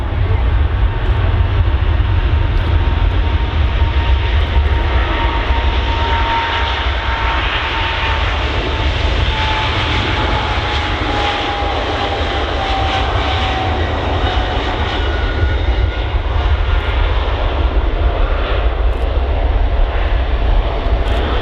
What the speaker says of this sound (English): So there's the Emirates 777 starting its roll to Dubai.